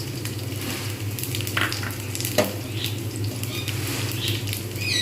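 Tengra fish fry in hot oil in a pan as nigella seeds are tipped in, giving a steady close sizzle with crackling pops and a few scraping stirs throughout, with no voice.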